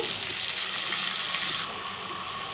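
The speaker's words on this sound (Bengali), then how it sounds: "এখানে আমি একটু পানি দিয়ে দিচ্ছি" Water poured into a pan of ginger and garlic frying for an eggplant and fish dish, a steady continuous gush at close range with no talk over it.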